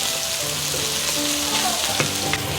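Fish cooks in boiling bean paste sauce with a steady, close bubbling sizzle, broken by a few soft clinks of a utensil.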